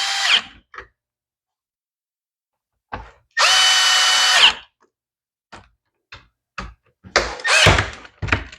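Small power driver tightening screws on a Husqvarna leaf blower carburetor during a carb rebuild, heard as a single sustained whir of about a second amid scattered clicks and knocks of handling tools and parts.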